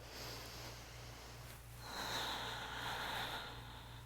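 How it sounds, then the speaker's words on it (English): A slow, deep breath during chair yoga, a full airy inhale and a long exhale, soft and close over a low steady hum, with no talking. "Slow, full inhale, slow, complete exhale"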